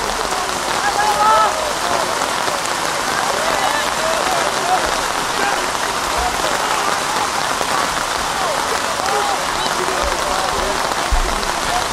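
Steady rain falls during an outdoor high school lacrosse game, a constant dense hiss of drops on surfaces that holds at an even level throughout with no break.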